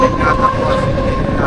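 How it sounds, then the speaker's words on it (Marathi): A Mumbai local train rumbles steadily alongside another local on the CSMT line, a loud continuous roar of wheels and carriages with a sustained tonal hum and no clear pauses. "बाजूला ट्रेन क्रॉसिंग झालेली आहे"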